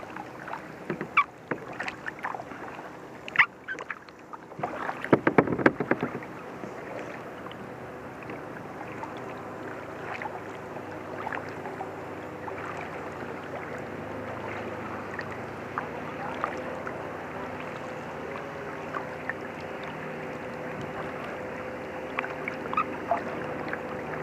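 A distant motorboat and pontoon boat drone on Codorus Lake, the engine hum rising and fading, with paddle splashes and knocks up close early on.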